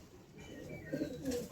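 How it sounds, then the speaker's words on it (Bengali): A pigeon, one of a mated pair, gives a soft, brief coo close by against quiet background noise. "এই যে জোড়া কবুতর রয়েছে"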